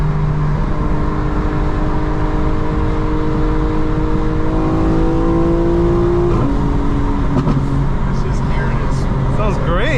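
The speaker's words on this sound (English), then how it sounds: "enjoy the exhaust and the RPMs." A 900 hp 2025 BMW M4 Competition xDrive revs hard while driving. The loud, droning exhaust climbs in pitch, drops sharply at a gear change, then rises again.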